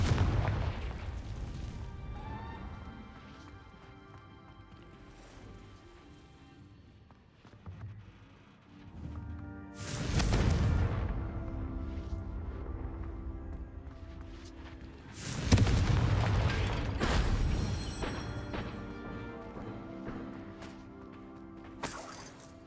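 Confringo spell blasts in Hogwarts Legacy, three sharp, loud bursts that leave crackling, shattering debris and rumbling echoes, separated by quieter stretches of ambience.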